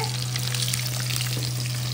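Continuous close crackling sizzle of catla fish frying in oil, dense and even throughout, with faint spattering pops and no voices.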